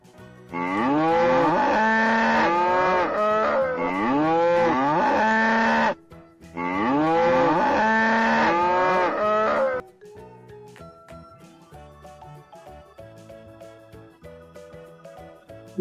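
Cow mooing in long, loud, drawn-out calls, two sustained moos back to back with a brief gap, followed by quieter plinking music.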